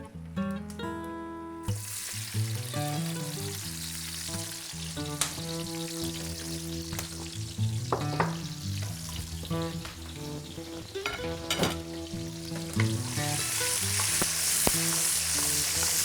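Garlic, olives and capers frying in oil in a pan give a loud, crackling sizzle with spitting pops and clinks of utensils, rising in intensity toward the end; no voices.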